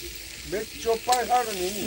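Egg bhujia sizzles in a pan as a father cooks, a soft close frying hiss under a voice and other chatter.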